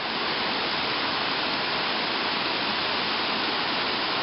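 Clear, very cold spring water at Dunnings Springs rushes continuously in a steady, dense wash, loud and close, with no voices over it.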